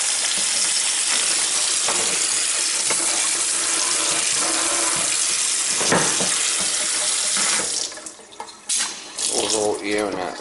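Water rushing steadily through pipes after a partially opened valve at a summer home, a loud broadband hiss that cuts off near the end, leaving brief sputters and gurgles.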